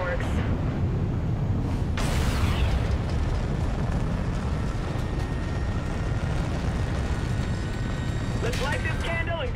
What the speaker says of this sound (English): Visual on that tower detonation. Follow these pipes and watch the fireworks.